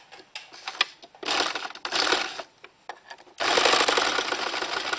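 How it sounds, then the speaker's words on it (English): A sewing machine without speed control stitches patchwork fabric in loud, rapid mechanical bursts, starting and stopping in several runs before one long continuous stretch, close and without speech. "and there you start sewing"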